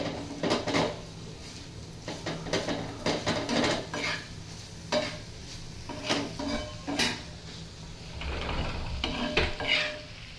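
A spoon stirs bitter gourd curry in a metal pan, giving repeated close scraping and clinking strokes in irregular bursts over a low background sizzle, with no voices.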